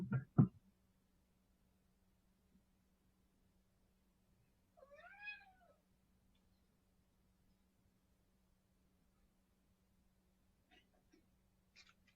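A cat meows once, clearly, in a quiet room during a library craft session, between a couple of soft knocks and a faint steady hum.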